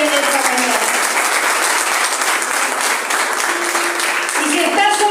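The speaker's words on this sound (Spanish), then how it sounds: "Dale un fuerte aplauso al Señor en esta mañana." A church congregation applauding, a dense continuous wash of clapping that fills the whole moment, with a voice speaking over it near the end.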